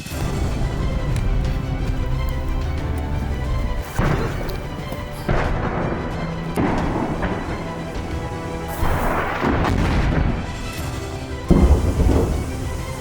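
Heavy, booming artillery blasts roll out one after another over several seconds in the Kharkiv region during wartime, each a deep thud with a long rumbling tail, heard at a distance.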